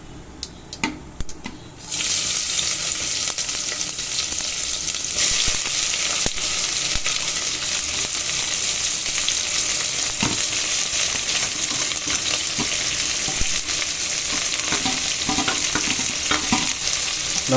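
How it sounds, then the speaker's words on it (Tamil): Chopped large onions hit hot oil with fennel seeds in a pan for Tamil-style tomato rice, starting a loud, steady sizzle that continues alone after a brief quiet moment of clatter. "நம்ம நறுக்கி வச்சுருந்த எல்லா பெரிய வெங்காயத்தையும் இதில் போட்டாச்சு. இதை நல்லா நம்ம வதக்கிக்கலாம்."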